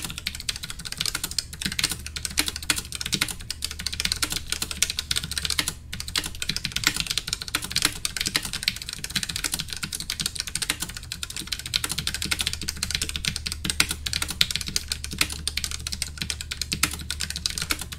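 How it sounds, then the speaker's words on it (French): Steady, continuous typing on a Keyz Platinium low-profile mechanical keyboard, with soft, quick switch clicks, close and even-paced, no voices. "un test d'écriture comme je fais à chaque fois pour entendre bien le son des switches"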